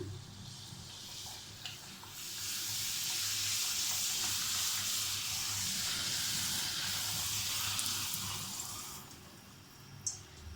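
Golgappa puris deep-fry in hot oil, giving a loud, steady bubbling hiss that swells after a couple of seconds and holds, with a light clink near the end.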